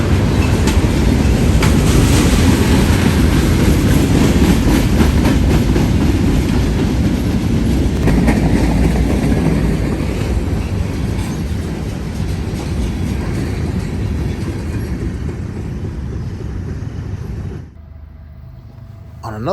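A train rolls past on the railroad tracks, a loud, steady rumble with rhythmic clicking of wheels over rail joints that continues at length before cutting off abruptly near the end.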